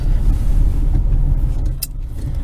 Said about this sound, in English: Ooh, look. A delivery truck.